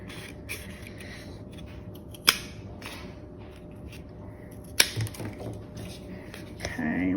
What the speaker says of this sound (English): And then I'm gonna cut some V shapes.